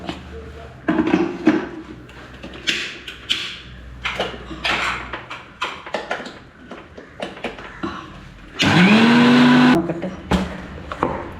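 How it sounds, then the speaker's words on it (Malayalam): A mixer grinder grinds ginger with a little water in a kitchen. Talk and clattering of kitchen utensils come first, then a loud, close whirring burst lasts about a second and a half near the end. "ഒന്ന് അരച്ചെടുക്കാം."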